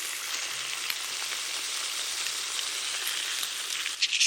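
Sauce sizzling steadily in a hot pan on a Monument Grills Denali 605Pro for Chinese-style pepper steak, a continuous bright hiss with a few crackles, close and even, with no talking.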